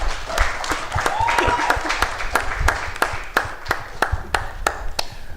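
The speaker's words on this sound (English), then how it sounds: "could we have a round of applause for our panel up here?" A school district alumni forum audience applauds its panel, sparse sharp individual claps ringing out near and loud over a softer bed of clapping and murmuring voices.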